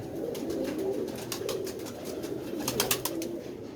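A pigeon coos softly in low, rolling phrases against constant background hiss and scattered faint chirps, with no one speaking.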